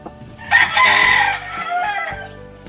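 A single rooster with fowl cholera, its face and wattles swollen, crows loudly and close by, one drawn-out call lasting a couple of seconds.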